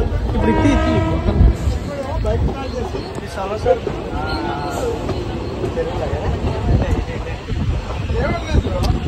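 A passenger train running on rails on a cloudy day, heard from on board as a loud, continuous rumble with wind buffeting, a horn-like tone and people talking throughout.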